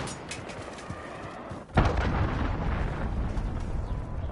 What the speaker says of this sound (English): Cruise missile away.